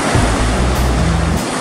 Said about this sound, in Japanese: 波はありますね